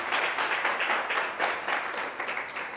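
A church congregation applauds in a dense, sustained round of clapping that swells in waves over a few seconds, with no speech over it.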